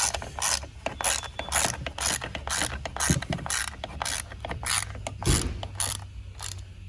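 A driver with a T20 bit turns screws into a ski while mounting Dynafit bindings, giving a steady series of rapid ratcheting clicks with a couple of dull knocks, close and alone.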